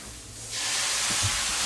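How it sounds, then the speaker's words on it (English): Keto side dish sautéing in a pan, a soft broadband sizzle that swells suddenly after a quiet start and continues steadily, with a faint low rumble underneath. "So we have this sauteing."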